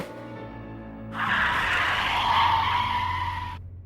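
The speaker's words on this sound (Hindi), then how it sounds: "अचानक गाड़ी क्यों रोक दी?" A car brakes hard and skids to a sudden stop on a road, a loud sustained tire squeal rising over the engine and lasting a couple of seconds before fading out.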